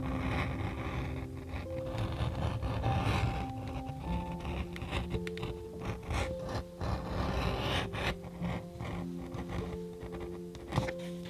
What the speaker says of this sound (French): Ensuite je passe la bacarre sur le rabat.